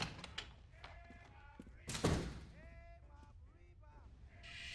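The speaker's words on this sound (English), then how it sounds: "she closed the door" A door thuds shut once in the 1940s-set detective video game LA Noire, a single solid knock heard under game voices and talk.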